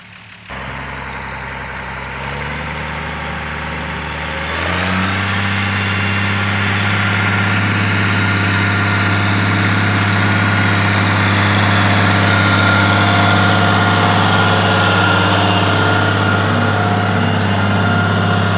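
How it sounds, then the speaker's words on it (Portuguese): A turbocharged CBT 2600 tractor working with a Tatu Marchesan seven-row planter. The diesel engine idles, rises in revs after a few seconds, then holds a loud, steady, close drone with a deep low hum. "Vou mostrar um pouco esse trator trabalhando para vocês."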